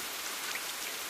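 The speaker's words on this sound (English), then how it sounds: "A sudden downpour comes on." A sudden, steady rain downpour hisses continuously and evenly, a dense wash of drops striking surfaces close by with no voices.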